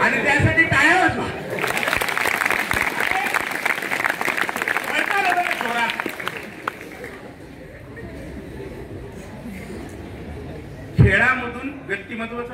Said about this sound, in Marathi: आणि त्यासाठी टाळ्या वाजवा.